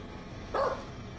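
A dog gives a single short low bark as a horror story sound effect, brief and fairly near against a quiet background.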